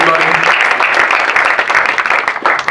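Applause from an audience at an after-hours comedy show, a steady wash of clapping that holds loud and dense throughout without pause.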